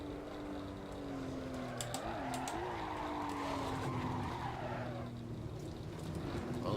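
A Porsche Cayman drifts at the Ebisu drift track in a racing game, its tires squealing in a long, wavering, steady screech over a low engine drone.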